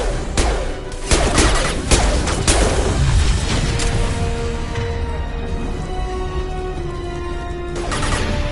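Gunfire in a Mass Effect 2 combat scene, sharp bursts and booming shots clustered in the first few seconds, then a steadier stream of weapon fire and impacts, loud and close.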